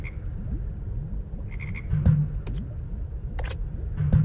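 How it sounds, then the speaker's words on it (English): Frogs croak in a video game, with several low, wobbling croaks repeating close by and a few short higher chirps, clicks and blips scattered over a constant background hum. "Whoa, froggies!"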